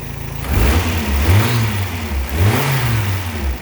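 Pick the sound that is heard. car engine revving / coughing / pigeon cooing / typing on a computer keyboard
car engine revving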